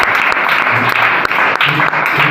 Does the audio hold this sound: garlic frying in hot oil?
no